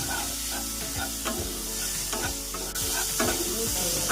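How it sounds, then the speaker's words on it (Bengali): Soaked sago pearls stirred in a kadai over low heat, where cashews and raisins were just fried, giving a steady soft sizzle with repeated scraping strokes of the spoon. "আগে থেকে ভিজিয়ে রাখা সাবুগুলিকে ওই একই কড়াইতে একটু নাড়াচাড়া করে নেব।"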